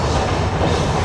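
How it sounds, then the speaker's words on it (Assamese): A train passing close by with a loud, steady rumble and rolling wheel noise that fills the whole moment, with no voices. "এতিয়া ট্ৰেইন আহি আছে"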